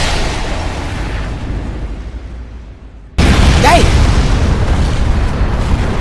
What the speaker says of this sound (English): Attempting to now contain the explosion